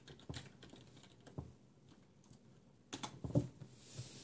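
A few sparse, soft keystrokes tapped on a computer keyboard in short bursts with pauses between them, close and quiet.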